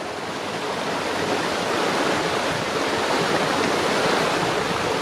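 A river rushes past close by as the path runs almost along its bed, a dense, loud, continuous roar of flowing water with no voices over it.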